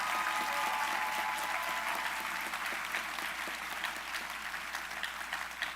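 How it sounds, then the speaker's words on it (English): An audience at a nursing school diploma, pinning and awards ceremony claps for graduating honor scholars, a steady, moderately distant round of applause that slowly thins toward the end. "Can we give a round of applause to our graduating honor scholars?"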